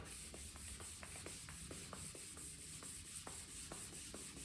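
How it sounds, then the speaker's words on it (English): Taxi bodywork wet sanded by hand with wet/dry sandpaper, a faint repeated scrubbing rub in steady strokes about twice a second over a constant background hum, no talking. "what I'm using for this is a wet rag and this wet dry sandpaper"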